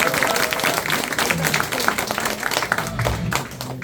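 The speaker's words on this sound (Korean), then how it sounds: "이우영님께 큰 박수 부탁드립니다." An audience at a trading seminar applauds the instructor Lee Woo-young, with dense, sustained clapping filling the room and a few voices mixed in.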